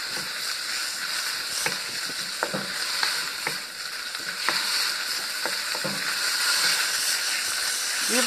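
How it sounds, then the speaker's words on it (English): Thinly sliced ribeye beef fries in a wok with a steady, loud sizzle, and sharp scraping clicks of stirring recur every second or so throughout. "this is just some thinly sliced ribeye that I'm cooking in the wok now"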